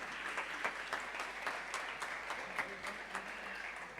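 A church congregation applauds in welcome for a visiting woman, steady clapping from many hands at moderate distance, fairly soft and even for several seconds.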